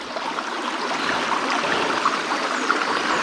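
Water flowing and trickling through a gravity-fed sluice dredge, a steady close babbling rush with no talking.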